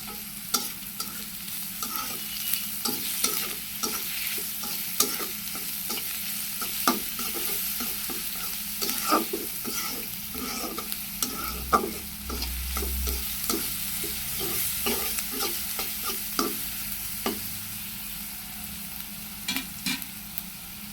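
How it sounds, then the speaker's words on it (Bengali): Prawns and taro stolons frying in a pan while being stirred, a continuous close sizzle broken by frequent sharp scrapes and clicks of the utensil against the pan, with no talking. "নেড়ে চেড়ে ভালো করে একটু ভেজে নিব"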